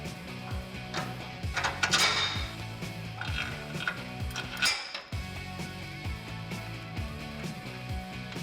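A ratchet turns an 18mm socket against a wrench to tighten the nut on a bumper bolt of a 2007-2013 Chevrolet Silverado 1500, with quick repeated clicking strokes and a few metallic knocks, close and without talk.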